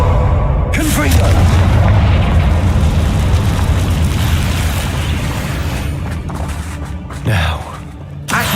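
A Confringo fire spell explodes in a video game, a loud rumbling boom that roars across the whole stretch and then fades, with a second sharp burst near the end, while a voice speaks over it.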